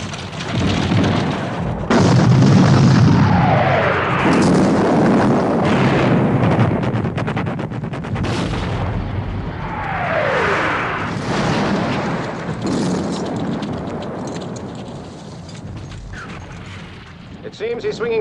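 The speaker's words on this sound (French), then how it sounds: "il est temps de faire donner l'artillerie sur Picton." Artillery bombardment in the 1970 war film Waterloo: heavy booming cannon blasts and rumbling explosions roll loudly over several seconds, with swooping whistles and battlefield din, voices present beneath the barrage.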